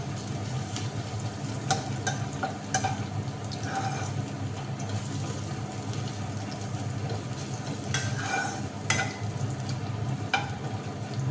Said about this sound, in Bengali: আর হচ্ছে ইলিশ মাছ ভাজা